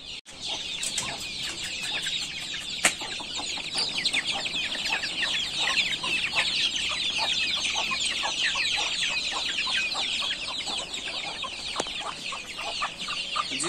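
A flock of chicks cheeps constantly, a busy stream of high, overlapping peeps that never lets up.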